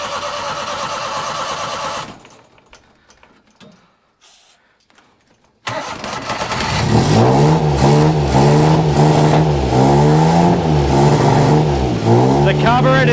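A Thai tuk tuk engine fitted with a Mikuni carburetor cranks, catches and then runs loud and rough, revving up and down in a close, continuous roar.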